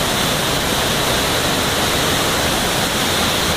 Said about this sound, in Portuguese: Ó, maravilhosa essa cachoeira.